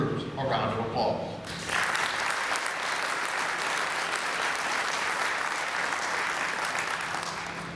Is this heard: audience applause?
yes